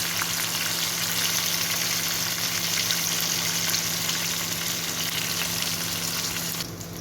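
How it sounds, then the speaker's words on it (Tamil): Fish fry in hot oil for a traditional Jaffna Sri Lankan dish, a loud, continuous close-up sizzle that holds steady and then drops slightly near the end. "மீன் பொரிஞ்சிட்டு இனி நாங்கள் வடிச்செடுக்க போகிறோம்"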